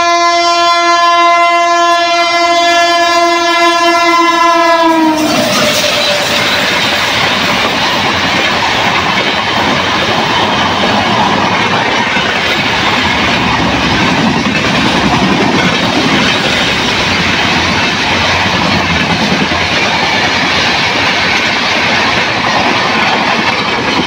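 A train at Kaishalkuchi railway station sounds a loud, steady horn for about five seconds, then rushes past close by with a continuous roaring rumble and clatter of wheels on rails.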